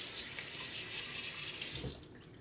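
Water runs from a sink tap in a steady, splashing stream for about two seconds during a shave, then cuts off.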